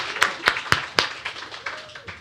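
A few separate claps ring out in a room at a design awards event, roughly evenly spaced and fading in strength, as a sparse audience joins in briefly.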